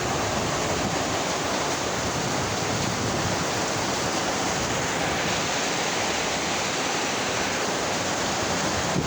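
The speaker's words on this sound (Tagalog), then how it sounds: "Dali lakas ng hangin, friends, oh." Strong wind rushes continuously and loudly during heavy rain at a street corner, a dense unbroken roar that swells slightly toward the end.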